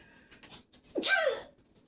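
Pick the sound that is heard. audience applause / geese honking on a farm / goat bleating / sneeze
sneeze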